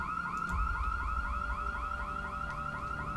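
Car alarm from a stolen vehicle in the zombie survival game Project Zomboid, a rapid repeating electronic whooping tone cycling steadily and moderately close throughout.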